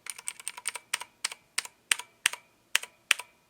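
Someone types on an Ajazz AK33 mechanical keyboard with its foam removed, producing close, crisp clacky keystrokes, first in quick pairs and bursts, then slower single presses spaced about a third of a second apart, with a faint metallic ring.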